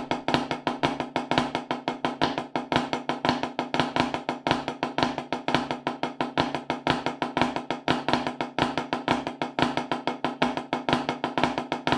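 Continuous drum triplets with the accent moved to the third note of each group and played as a flam, a fast steady stream of close, crisp strokes that keeps going for twelve seconds with no voices.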